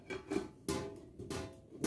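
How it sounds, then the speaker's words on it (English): A biryani rice pot turned over onto a flat baking pan, giving a few close metallic clanks and scrapes of cookware in quick succession. "So I'm going to turn this around in this flat baking pan."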